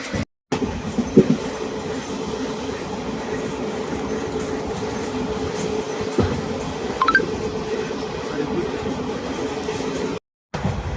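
Steady rumble and rattle of a passenger train on the Pondicherry to Kachiguda route, heard from inside a carriage, continuous and fairly loud with a faint clicking partway through and two brief dropouts.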